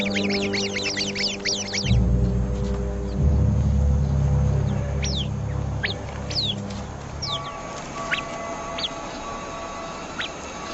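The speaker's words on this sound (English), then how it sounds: "The sentry bird immediately sounds the alarm." Sharp, repeated bird calls ring out in quick bursts over a low rumbling background, scattered chirps continuing at intervals.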